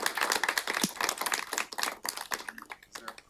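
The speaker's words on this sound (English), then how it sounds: "let's give them another round of applause" Applause at an appointed directors meeting: a short burst of scattered hand clapping from a modest group of people, close and uneven, with voices audible underneath and the clapping fading out at the end.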